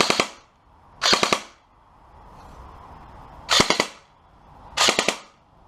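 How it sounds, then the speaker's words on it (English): A G&G CM16 SRXL airsoft rifle fires four sharp, close bursts of three rapid shots, with short quiet gaps between them. "And there's 3-round burst."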